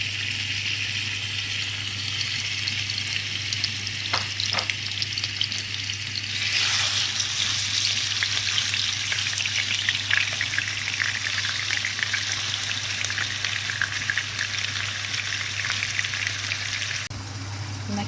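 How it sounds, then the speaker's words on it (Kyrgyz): Chunks of meat fry in heated oil in a pot, a loud continuous sizzling hiss with crackling spatter and occasional stirring knocks, a low steady hum underneath and no voices. "Мынакей этибиз дагы курулуп атат."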